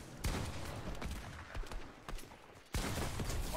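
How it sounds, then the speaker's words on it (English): Rocket launcher fire in the Fortnite video game: sharp explosive blasts at the start and near the end over dense, continuous battle noise, with one loud burst cutting in late. "It's impossible to get away from the fucking rocket launchers."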